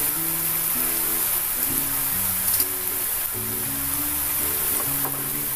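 Rice flour snack pieces frying in hot oil, giving a steady soft sizzle and bubbling beneath a gentle background melody, faint and continuous.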